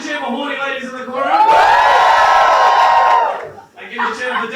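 A live comedy-show audience at a gong-show event bursts into a short, loud cheer and whooping for 'Ding Dong Gong Show' contestants, lasting about two seconds between stretches of a host's talking.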